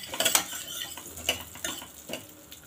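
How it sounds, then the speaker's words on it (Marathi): Wheat semolina roasting in ghee in a pressure cooker, with a spoon scraping and clinking against the metal in quick irregular strokes, close and fairly loud with no talk. "जो गव्हाचा रवा आहे तो छान भाजून घेते"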